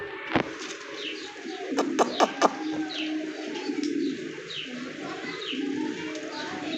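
A big racer pigeon held in the hand, with a few sharp wing flaps and scuffles near the middle over a steady background of distant chirping birds; a voice makes soft repeated calls early on.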